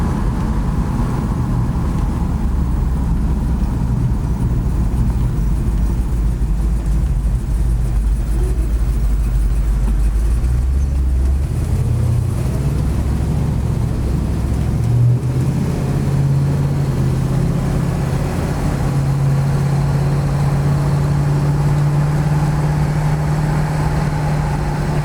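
A 1971 Hemi 'Cuda coupe cruising down the road, its low engine drone steady and loud from inside the car, with the pitch rising slightly partway through as it picks up speed.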